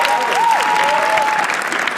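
A comedy show audience applauds a panelist's introduction, a steady full wash of clapping throughout with a voice speaking over it.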